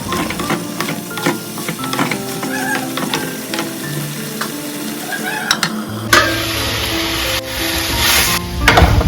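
Meat sizzles and fries steadily in a pan at home, with stirring scrapes and clinks over a constant hiss. A loud, bright sizzle flares up partway through.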